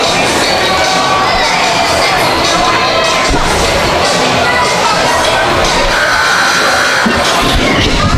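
A packed high school gym crowd at a Sulphur Springs Wildcats basketball game against Pleasant Grove roars continuously, loud and close, with shouting, cheering and children's yells blending into a dense, unbroken din.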